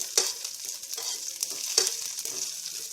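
Coriander leaves, curry leaves and a dry red chilli crackle and sizzle in hot oil as a tempering for ragi porridge. The hiss is steady, with several sharp spitting bursts close by and no talking.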